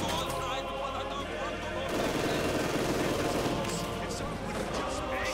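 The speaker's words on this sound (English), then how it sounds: "Now we're seeing a mortar on the way." Mortar rounds and gunfire in a WWII strategy video game, with dense, continuous rattling shots and blasts that swell louder partway through, mixed under speech.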